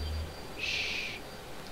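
A bird hooting like an owl in the shooter Battlefield Hardline, one clear, sustained hoot in the middle over a quiet ambient background.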